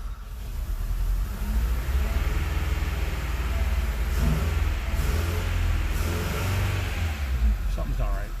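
A car engine fitted with new fuel injectors idles roughly with an uneven, low throbbing rumble that holds steady throughout, while a person talks over it.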